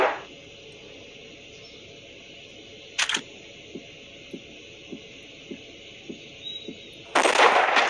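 Sniper rifle fire in the mobile game Hunting Sniper: a clean crack near the three-second mark, a run of soft evenly spaced ticks like a heartbeat, then a louder burst at the end over a steady low hum.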